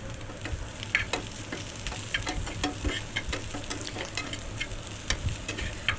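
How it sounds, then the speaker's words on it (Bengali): Onion, garlic and dried chillies frying in a pan for a raw prawn bharta, a steady close sizzle broken by frequent clicks and scrapes of a spatula stirring. "এই যে আমি এক সাইড করে শুকনো মরিচগুলো রেখে দিয়ে আমি আবারও এটা ভেজে নিচ্ছি।"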